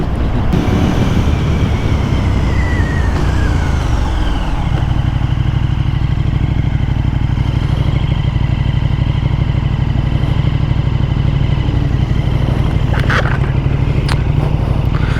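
A 2022 KTM 1290 Super Duke R motorcycle on the move: a steady, loud engine drone with a rising whine early on, then constant rumble under heavy wind buffeting, with no one talking.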